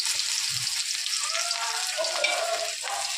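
Onions frying in hot oil in a pan, a steady close sizzle that holds at an even level throughout, with faint stirring or scraping underneath.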